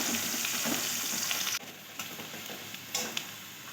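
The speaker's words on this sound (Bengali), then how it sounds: "আমি সুন্দর করে পেঁয়াজটা লাল লাল করে ভেজে নেব" Onions frying in a pan for a watermelon and prawn curry, a steady close sizzle throughout with a few soft stirring scrapes and a brief dip partway through.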